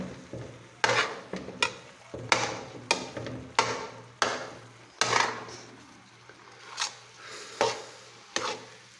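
Besan panjiri mixture cooking in ghee is stirred in a pan, a series of roughly a dozen distinct scraping strokes in an irregular rhythm over a soft low sizzle, close and moderately quiet, with no voice.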